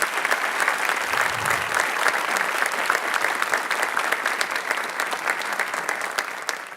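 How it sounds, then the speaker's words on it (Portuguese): A corporate event audience in Brazil welcomes a guest to the front with a round of applause: dense, steady clapping from many hands fills the room at even loudness for several seconds, with no speech on top. "queria receber com uma salva de palmas"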